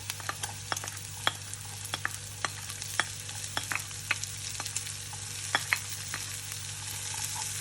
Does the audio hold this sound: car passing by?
no